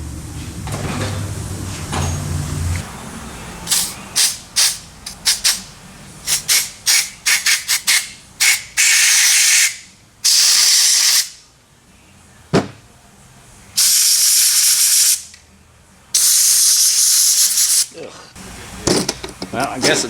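Bursts of aerosol solvent cleaner hiss onto Toyota 2ZZ-GE variable valve timing parts, several short sprays followed by longer loud hissing blasts with pauses between, close to the microphone.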